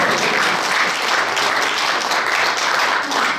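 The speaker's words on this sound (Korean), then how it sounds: "박수 부탁드리겠습니다." Audience applause at a regional science and technology forum on medical AI and health big data, a dense, steady wash of many hands clapping throughout, loud and close with no voices over it.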